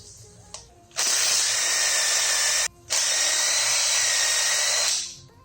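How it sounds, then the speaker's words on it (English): An impact driver fitted with a socket spins a long bolt for a clock build, two loud buzzing bursts of about two seconds each with a brief pause between, close up after a light click. "Impact driver, socket on the end"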